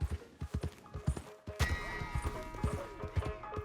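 Horse in Red Dead Redemption 2 giving a whinny and clip-clopping hooves, a steady run of close, loud hoofbeats with a bright neigh near the middle.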